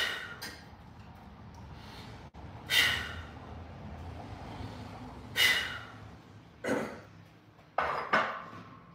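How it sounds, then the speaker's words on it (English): Deep, heavy breaths taken during a quick workout for older BMX riders, several breathy gasps and sighs spaced a few seconds apart over a steady background hum, close and moderately loud. "as I am taking a couple deep breaths myself"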